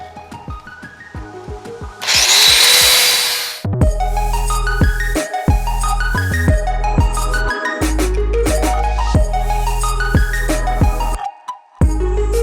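A power grinder grinds metal on a Toyota pickup ball joint, giving a loud, close, continuous whining drone that repeatedly rises and falls in pitch, with a harsh scraping burst early on.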